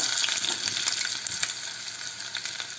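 Chopped onions frying in hot oil with urad dal for a South Indian chutney tempering, giving a soft, steady sizzle and crackle with faint stirring, heard alone and at close range.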